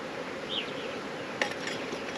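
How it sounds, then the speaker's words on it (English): Honey bees buzz in a hive during a mite wash, a dense, steady drone close to the microphone with a few brief higher whines and light clinks. "the bees will get upset quickly"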